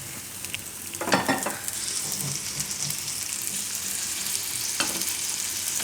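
A puffed rice pudla fries in oil in a pan with a steady close sizzle, and a few sharp bursts of louder spitting and crackling rise above the constant frying hiss.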